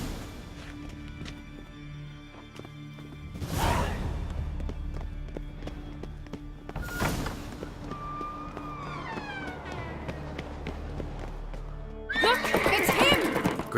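A horse from the video game The Witcher 3 whinnies in several loud, separate bursts while hooves clip-clop in a running rhythm, over game background sounds, with a brief whistling tone partway through.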